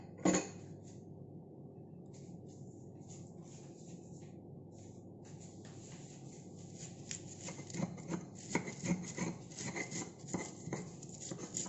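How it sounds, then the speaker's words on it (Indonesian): A stone mortar and pestle (ulek) grinds sambal with salt, giving soft scraping and rubbing strokes, near and fairly quiet, growing busier with rhythmic knocks toward the end. "Kita ulek"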